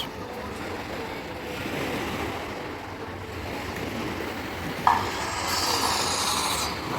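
Sea waves wash continuously onto the beach in Odesa in a steady, moderately loud surf rush, with one brief sharp knock partway through.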